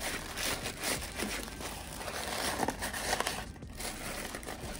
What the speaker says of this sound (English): I just kind of fold it like this, because the tissue paper isn't going to meet for me to tape it together.